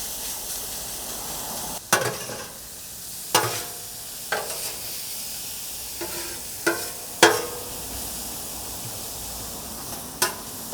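Smoked tri-tip steak and peppers warm on a hot griddle under a constant hissing sizzle, punctuated by a handful of sharp metallic scrapes and taps from a spatula spaced a few seconds apart.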